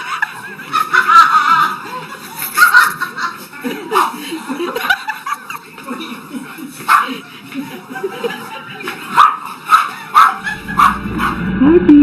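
Several jealous pet dogs bark and yip close by in a lively indoor scene, short excited bursts coming repeatedly over about twelve seconds, mixed with snorting and chuckle-like sounds.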